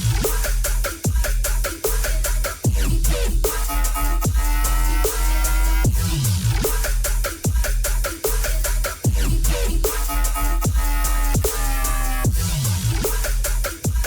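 An electronic track plays loud and dense, with heavy pounding sub-bass kicks, sharp percussive hits and buzzy synth stabs repeating in a steady pattern.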